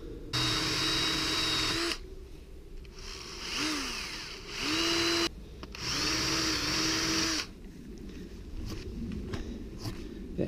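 A power drill whirs loudly in three long bursts while drilling holes in a tire, its pitch dipping as it bites in, separated by short pauses with faint background noise.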